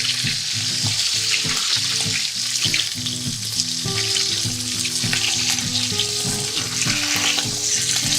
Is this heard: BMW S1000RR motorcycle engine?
no